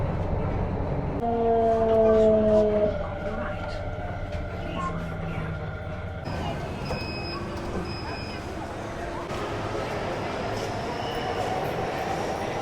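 Ride aboard a Delhi metro train: a steady rumble and rolling hum runs throughout, with tonal whines and brief higher chimes partway, and faint voices in the carriage beneath the noise.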